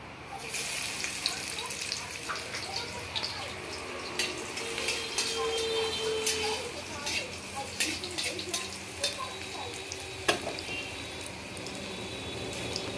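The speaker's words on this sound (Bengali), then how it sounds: "দারুচিনি, লবঙ্গ, এলাচ। দিচ্ছি আমি রসুন কুচি।" Chopped garlic and whole spices (dried chili, cinnamon, clove, cardamom) fry in hot oil with a steady, close sizzle and crackle, along with light stirring and clinks, while a voice talks over it.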